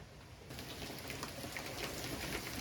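Heavy rain pours down steadily outdoors beside a campervan, a dense hiss of drops that swells sharply after the first half-second and stays loud and continuous, with no talking.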